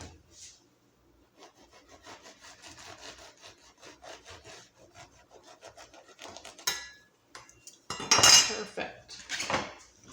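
A knife saws through a croissant in a quick string of soft, dry rasping strokes that crackle on flaky pastry, ending in louder scraping and clinks against a plate.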